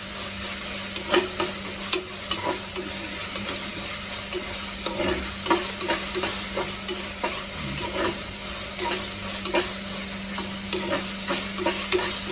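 Ginger, garlic and green chilies sizzle in oil in a pan for chicken biryani, with a continuous frying hiss and frequent scraping clicks of a spoon stirring the pan.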